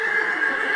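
A horse's whinny sounds as a sustained, fairly loud tonal neigh, heard alone and close for under a second.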